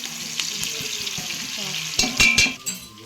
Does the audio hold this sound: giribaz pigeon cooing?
no